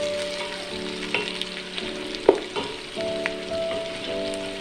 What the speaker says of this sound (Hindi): इसको भी हमने थोड़ा सा इसमें फ्राई करना है